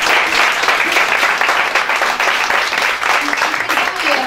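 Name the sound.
audience applause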